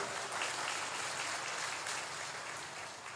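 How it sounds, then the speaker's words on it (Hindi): An audience at a Pandokhar Sarkar religious gathering claps steadily, a soft, even patter of many hands heard from a distance, with no talk over it. "अरे ताली तो बजाओ भाई।"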